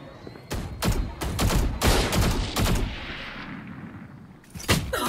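Rapid bursts of gunfire in Valorant, several loud volleys and single shots clustered close together, with a final burst near the end and no talk over them.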